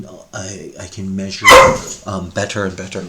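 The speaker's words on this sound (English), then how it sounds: "That's my dog" A pet dog named Connie barks once loudly at home, close by, cutting into a person's ongoing speech that continues around it.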